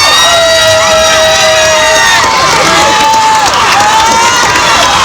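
A large crowd at a Michael Jackson appearance screams and cheers continuously, with piercing high shrieks and whistles rising over a dense roar, loud and sustained throughout.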